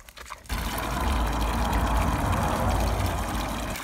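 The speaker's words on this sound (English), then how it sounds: "This place in Val de Prazeres is the best place to fill up water because it's just running all the time." Water running constantly from a public water spot in Val de Prazeres, central Portugal, a steady close splashing and trickling flow that starts abruptly and continues evenly, with no talk.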